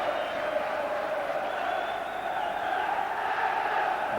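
Football crowd at a Liverpool v Everton match, a dense, steady wall of shouting and chanting from the terraces, loud and continuous with no breaks.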